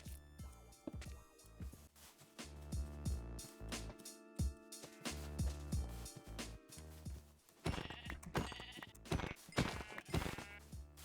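Sheep bleat repeatedly in a Minecraft horror game over a busy game soundtrack with steady music, a few other animal calls mixed in.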